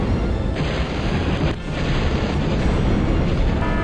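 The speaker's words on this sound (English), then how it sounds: "Oh god, missiles." Dense, continuous rumbling blasts of missile explosions from the strategy video game Total Annihilation, loud and sustained with overlapping booms.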